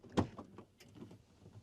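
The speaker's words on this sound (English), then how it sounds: "I'm opening the door." A door is opened outdoors at night at a campsite, a single sharp close thump followed by quieter scraping and rattling movement.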